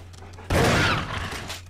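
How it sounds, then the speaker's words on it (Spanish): A single loud shotgun blast in Resident Evil HD Remaster bursts out suddenly after a low hum, then fades into a short rumbling tail. "le he dado con un disparo a escopeta"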